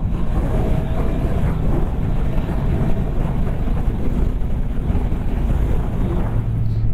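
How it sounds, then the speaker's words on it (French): Wind buffets a rider's helmet on a QJMotor SRK 921 RR motorcycle at speed, a loud, steady roaring rush that stays constant, with engine drone underneath and no voices. "je prends du vent en pleine tronche, hein, c'est sûr, mais naturel en fait"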